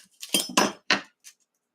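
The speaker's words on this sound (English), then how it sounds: "We're gonna cut the onion in half." A knife cutting an onion in half on a board, three or four sharp close crunching strokes in quick succession followed by a faint final tap, no voices.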